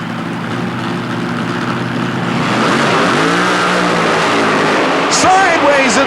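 A supercharged Chevrolet mud racing truck called Wild Thing making its run at the 1991 New Orleans Superdome: a loud, roaring engine rising in pitch as it revs and accelerates, with an echoing indoor arena behind it and a commentator talking over it.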